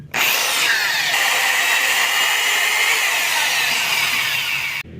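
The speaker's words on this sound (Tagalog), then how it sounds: "yung ikot dapat ng barena natin is clockwise para palubog po siya" A loud, steady whine of an electric drill boring clockwise into a broken motorcycle bolt, running nearly five seconds before cutting off abruptly.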